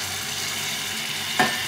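Boiled bottle gourd water is poured into a pan of shol fish curry, giving a steady frying sizzle and hiss, with a sudden brief splash-like flare just before the end.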